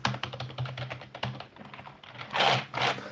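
Someone types on a cheap computer keyboard, a rapid run of close, clattering keystrokes followed by a few heavier, louder presses near the end, with no talking.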